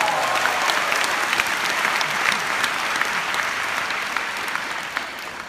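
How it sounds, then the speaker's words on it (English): A large audience at a Jeunesse business event in Kuala Lumpur breaks into sustained, dense applause, loud and even throughout with no break. "Give yourself a big round of applause."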